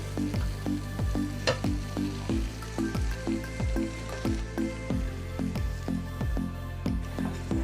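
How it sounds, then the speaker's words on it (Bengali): Cooked rice going into a pan of mixed vegetables frying for fried rice, with steady sizzling and a regular run of soft scraping stirs. Moderately quiet and close, no voices. "এখন আমি যে ভাতটা রান্না করে রেখেছিলাম সেই ভাতটা আমি এর ভিতর দিয়ে দেব।"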